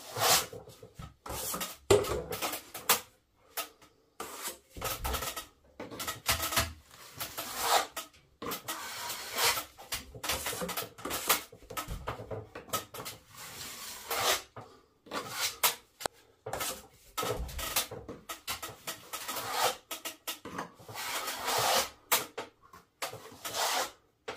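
A trowel spreads filler across a water-damaged plasterboard ceiling in repeated rasping, scraping strokes, close and rhythmic with brief pauses between passes.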